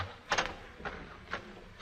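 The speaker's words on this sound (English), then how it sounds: "Our hero opens his door." Radio sound effect of a door opening, made in a 1940 studio: three soft, short clicks or creaks spaced about half a second apart, quiet over a faint hum.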